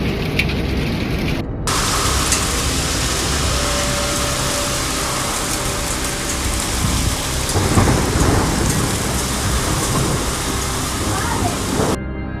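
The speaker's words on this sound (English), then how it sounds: "Severe hailstorms and lightning struck Massey, West Auckland, covering the ground with thick white hailstones." A severe hailstorm in Massey, West Auckland, with hard hail and rain hammering steadily as a dense roar and thunder rumbling through, loud and continuous for the whole stretch.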